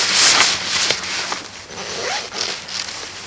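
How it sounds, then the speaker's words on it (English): A zipper being drawn up on a mummy sleeping bag inside a hammock, close and loud, in several rasping pulls with brief pauses and some fabric rustle between them. "So now I have the zipper up"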